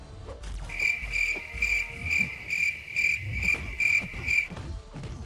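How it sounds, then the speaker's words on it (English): Crickets chirp as a comedy sound effect after a bad joke, a steady run of about ten evenly spaced shrill pulses over low background rumble. "That one gets the crickets."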